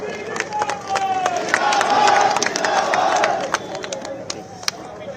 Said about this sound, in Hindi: कृपया जोरदार ताली बजाकर स्वागत करें